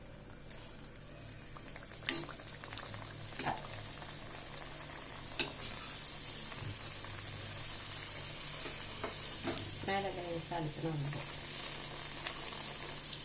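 Moong dal puris frying in hot oil give a steady close sizzle and hiss, with a sharp crackling burst as dough goes in and bubbling surges later; a voice speaks briefly near the end.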